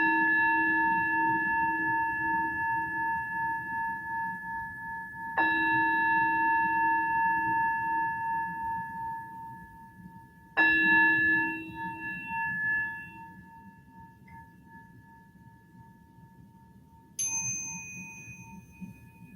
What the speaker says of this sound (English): We'll begin with 3 sounds of the bell.